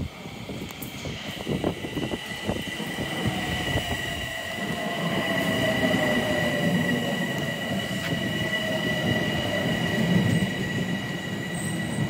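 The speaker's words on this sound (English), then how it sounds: "Train 8735 to Croton Harmon." A train bound for Croton-Harmon, featuring an ex-NJ Transit Comet IV car, rumbles past at Greystone with rhythmic wheel clatter and a high, sustained squeal of wheels on the rails, loud and steady.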